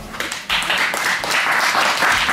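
Audience applause at a presentation event swells suddenly into steady, dense clapping from a crowd indoors, continuing for a couple of seconds.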